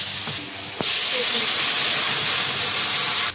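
Panch phoron and a little garlic paste hit hot oil and burst into a loud, steady sizzling hiss that carries on at full strength for a few seconds, close up, with a couple of faint clicks mixed in.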